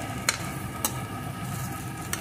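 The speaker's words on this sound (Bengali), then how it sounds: "চামচের সাহায্যে ঘেটে ঘেটে দিয়ে দেব।" Spoon pressing and stirring a soft mash of eggplant and tomato for Bengali begun bharta, a steady close wet squelching texture broken by three sharp clicks of the spoon against the pan, with no talk.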